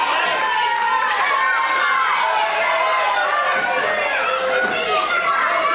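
Wrestling crowd at a live show in Witham, a loud dense wash of cheering, shouting and excited chatter that carries on throughout with no break.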